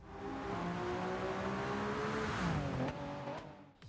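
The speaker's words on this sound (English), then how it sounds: "we can now go on board for a lap around a wet circuit de Spa-Francorchamps in our trusty GR10 Hybrid" A Toyota GR010 Hybrid race car laps the wet Spa-Francorchamps circuit, its engine note climbing steadily through the gears with a brief dip and shift near the end, loud and close as if from onboard.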